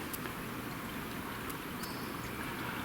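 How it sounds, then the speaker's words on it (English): Water flows steadily through a creek bed in the bush, a faint, continuous rushing wash with no voices over it. "Now got into this old creek bed. Oh, there's a new one. It's flowing anyway."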